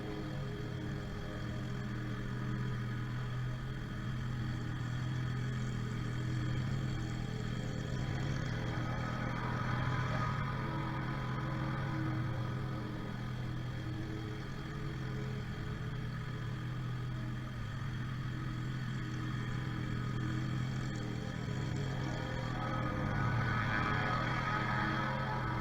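Steady, continuous drone of a lawnmower engine cutting grass, fairly quiet and unchanging throughout with a low rumbling hum and no voices.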